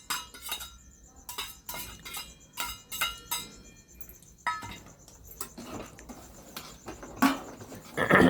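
Vermicelli roasting in a pan for kheer: a run of sharp clinks and scraping taps from a utensil stirring against the pan, irregular and close, with soft sizzling patter between the strikes.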